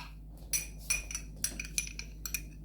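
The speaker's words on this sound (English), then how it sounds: "I just mixed the freeze-dried with the water. You can let it set, but I like to stir it around." A spoon clinks repeatedly against a bowl while stirring freeze-dried egg with water, a steady series of light metallic taps over a faint background hum.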